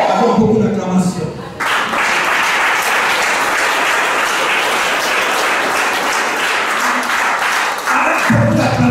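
Church congregation breaking into loud, sustained applause and cheering after a brief moment of a voice, a dense, continuous roar of clapping that carries on strongly to the end.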